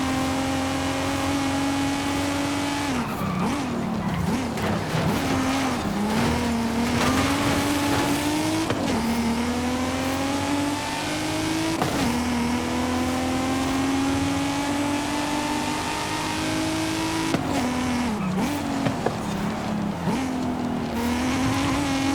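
A 1993 Nissan Skyline R33 engine in Forza Horizon 5 drones loud and steady, rising through gears with repeated shift dips and brief tire squeals, continuous and close.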